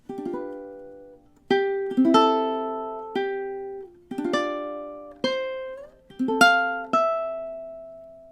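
A ukulele strums a series of bright chords from a song, each ringing and decaying before the next, in a steady unhurried progression.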